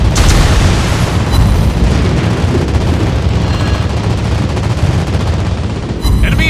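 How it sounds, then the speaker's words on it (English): Sustained, dense anti-aircraft gunfire from a space combat strategy game rattles with booms and explosions, loud and continuous throughout. "Anti-aircraft gun on full alert."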